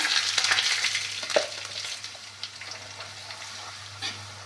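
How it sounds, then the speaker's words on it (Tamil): Curry leaves and ground paste frying in oil for a curry leaf pickle, a steady sizzle with occasional stirring scrapes, close and continuous with no talk. "கொஞ்சம் கருவேப்பிலை சேர்த்துட்டு நம்ம அரைச்ச விழுதை வந்து இதோடையே சேர்த்துடலாம்."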